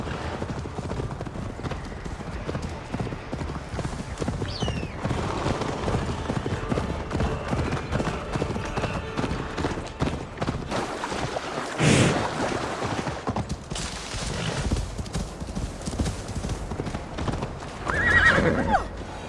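Horses gallop in a steady clip-clop race in Assassin's Creed Valhalla, with neighs and whinnies breaking through, near and loud throughout, with a few louder bursts toward the end.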